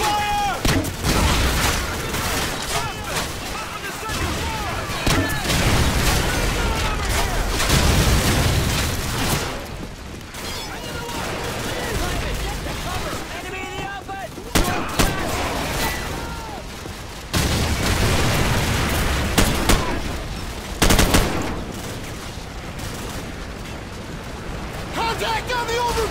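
Suppressing gunfire during a Call of Duty 4: Modern Warfare mission in a bog, loud, dense bursts of automatic rifle fire and explosions over about twenty-five seconds, with shouted voices mixed into the battle.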